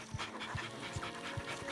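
Dogs panting in the Nightmare Ned video game, a quick, rhythmic series of breathy pants repeating at a steady pace, moderately quiet over a faint background.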